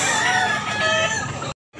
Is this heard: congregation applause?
no